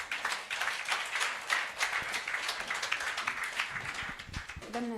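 A church congregation claps together at a deliverance service, a dense, steady patter of many hands that carries on for the whole stretch without pause.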